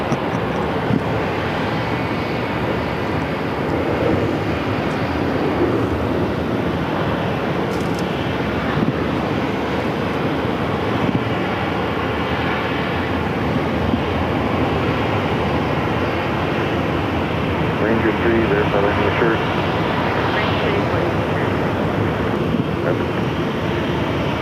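An airplane on approach to runway 8 at Phoenix Sky Harbor airport, its engines producing a loud, steady roar that holds throughout without pause or noticeable change.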